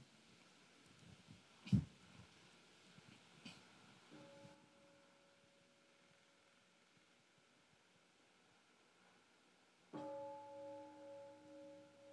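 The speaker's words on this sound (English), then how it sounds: "How about one sound of the bell?" At a Buddhist mindfulness retreat, a meditation bell sounds in a very quiet room. A soft first tone fades away, then a fuller, louder ring rises about six seconds later and hums on, with light rustling and one thump before it.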